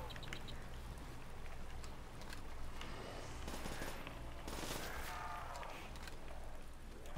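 Gunfire in a custom zombies map of a first-person shooter, with rapid bursts and crackling shots layered over steady game ambience, fairly quiet overall with a denser cluster of shots midway.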